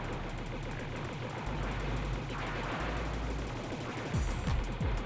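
Missiles and tank fire in Robotron 64 pour out as dense, rapid rhythmic shots in a continuous barrage, with a few heavier thumps near the end.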